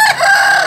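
A rooster crows close by, a loud, sustained call filling the short moment without any other sound.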